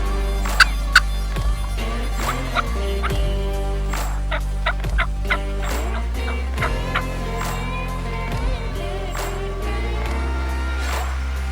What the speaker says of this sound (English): we spotted a gobbler back here